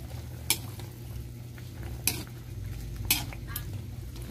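Chicken adobo with string beans and potatoes stirred in a pan, with a few sharp utensil scrapes against the metal over a steady low simmering sizzle, close and moderately loud.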